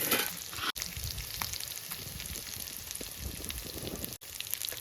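Kati fish frying in a pan, a soft continuous sizzle and crackle heard close, with faint pops and a couple of brief dips to near silence.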